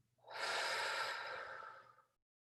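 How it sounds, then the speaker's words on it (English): A single deep breath drawn in and let out, a smooth airy rush lasting about two seconds, close and clear in a quiet room. "stop, pause, take a breath,"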